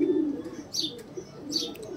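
A male border kalanj pigeon coos softly and close by, a low throaty murmur, with a couple of brief higher chirps mixed in.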